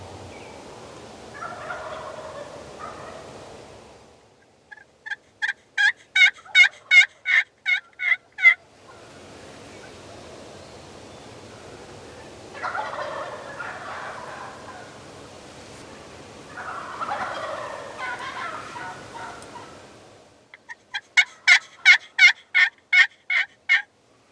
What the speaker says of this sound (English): we could hear at least a half dozen gobblers and a bunch of hen calls from several different areas around us